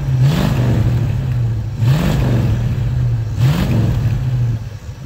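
A 1973 Ford Mustang engine, abandoned in a cow field for 30 years, runs loud and close with a steady idle, lifters tapping, rising in three brief revs spaced evenly.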